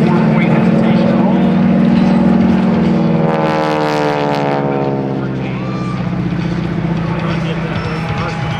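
T-6 propeller aircraft flying a four-point hesitation roll at an airshow, a loud droning engine whose pitch sweeps and wavers through the maneuver, with an announcer talking over it.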